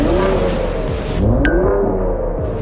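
Ford Raptor pickup engine revving up and falling back in a short, loud burst, a throaty rising and dropping roar heard close by.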